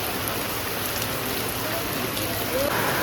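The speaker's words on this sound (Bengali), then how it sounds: "এই দেখো কত জল পড়ছে এখান থেকে, মুষলধারে বৃষ্টি পড়ছে" Heavy downpour pouring down while people shelter from it, a steady dense hiss of rain and water falling nearby, with faint voices murmuring underneath.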